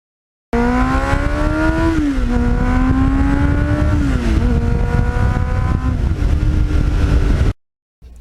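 A 1989 Kawasaki GPX750R motorcycle fitted with a Muzzy muffler exhaust runs loud and close, its steady engine tone dipping and rising in pitch with throttle changes for about seven seconds before cutting off abruptly.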